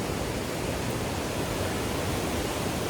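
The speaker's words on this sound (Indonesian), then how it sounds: "Itu curug-curugnya tuh" Waterfalls at Curug Leuwi Hejo in Sentul, Bogor, make a constant, dense rushing roar of falling water, steady and fairly loud throughout, with no voices.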